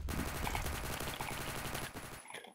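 Rapid automatic gunfire in the Phantom Forces shooter game, a dense rattling burst of shots sustained for about two seconds before cutting off abruptly, loud and close.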